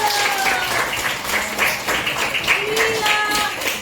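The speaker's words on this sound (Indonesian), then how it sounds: "tepuk tangan, jawaban yang bagus." Students in a classroom clap together in a lively burst of applause, with children's voices and calls mixed in over the clapping.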